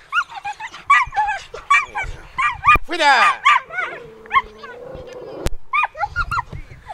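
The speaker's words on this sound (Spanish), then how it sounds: "Unos perros se vinieron de aquí." Dogs on a football pitch during a friendship league match bark, yip and whimper loudly and close, in rapid bursts with a whining stretch, while someone shouts briefly.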